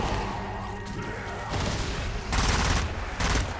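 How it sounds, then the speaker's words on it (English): Gunfire in the zombie shooter game Zombie Army 4: Dead War, loud, dense bursts of shots and impacts running continuously, with heavier volleys near the end. "I was about to say, bro, please shoot."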